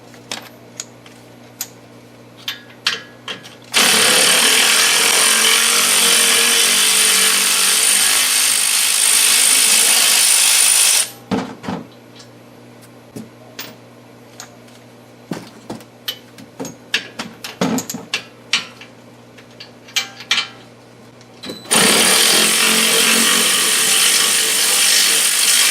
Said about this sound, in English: So we're going to remove two bolts here in the back. They're 15mm bolts.